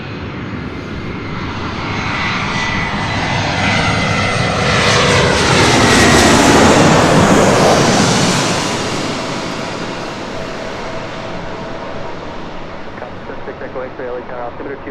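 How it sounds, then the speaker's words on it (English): A Delta Airlines Airbus A319 jet airliner arriving from SFO at LAX on the north side: a steady jet roar swells to a loud peak as it passes close overhead, then fades away, with air traffic radio talk underneath. "Next arrival here on the north side is Delta Airlines flight 2267 coming in from SFO. It's an A319."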